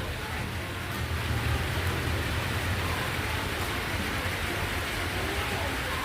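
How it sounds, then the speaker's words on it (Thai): Rain pours steadily at an outdoor market, a dense, even hiss of drops hitting surfaces that fills the whole scene without letup, close and loud. "โอ้ยฝนตก ทุกคนฝนตก เดินไปก็เปียกแล้วเนี่ย"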